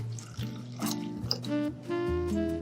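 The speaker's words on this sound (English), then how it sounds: "I'm gonna put this in a shaker, and then I'm gonna add some water." Water trickles and pours into a cocktail shaker for a morning mocktail, a short gurgling fill with dripping and rising pitch as the container fills, close and clear with no talk.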